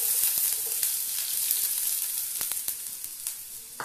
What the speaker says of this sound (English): Now the oil is little bit hot. Now I am putting one finely chopped onions.